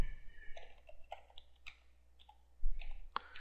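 Keys on a computer keyboard click one after another as a domain name is typed into a WordPress setup page, a sparse irregular run of close, fairly quiet clicks with no talking.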